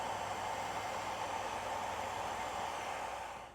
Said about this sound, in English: To speed up our priming process, we got our hair dryer here.